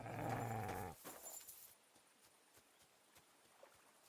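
Dog in the medieval role-playing game Kingdom Come: Deliverance II lets out a short, rough growling bark, followed by a quiet stretch of soft, evenly paced footstep-like thuds.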